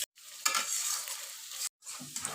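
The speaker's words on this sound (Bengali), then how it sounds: "দিয়ে মশলাটাকে নেড়ে চেড়ে নিলাম।" A spice paste of onion paste, chili powder and salt is stirred and fried in a pan, with short bursts of soft sizzling and scraping broken by two brief silent gaps, fairly quiet and close.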